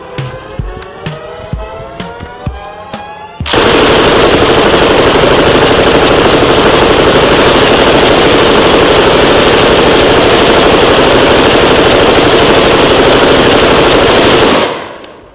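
MG3 light machine gun firing one long, loud, continuous burst of rapid shots, close up, after a few seconds of quieter clatter and knocks, then stopping abruptly.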